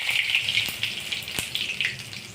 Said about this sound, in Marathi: कढीपत्ता घालत आहे